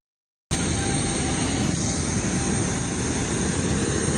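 A small plane's engine is played back from a phone recording, starting suddenly and then droning loud and steady with a rough, buzzy propeller tone that holds without a break.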